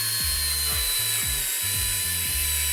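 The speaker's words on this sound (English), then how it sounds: "So if I just get this drill up to speed and slowly work it in" A power drill whines steadily while repeatedly bogging down and revving back up, roughly twice a second, as it bores into wood close by.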